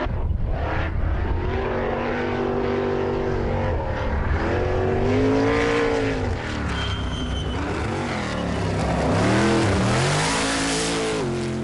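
A 1993 EWJ Wells Coyote race car climbs Pikes Peak in 2001, engine revving hard through repeated gear changes with rising and falling pitch sweeps, loud and close, tires briefly squealing.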